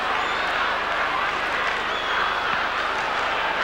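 Large football crowd at a 1991 AFL match between Carlton and St Kilda, a steady loud roar of cheering and applause filling the ground throughout, with no pause.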